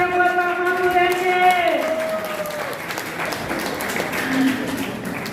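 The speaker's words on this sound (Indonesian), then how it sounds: "Tepuk tangan yang meriah buat Pak Mahfud MD" Loud audience applause for Pak Mahfud MD at a cultural gathering, a dense, steady wash of clapping filling the hall from start to finish, with a voice speaking early on over the crowd.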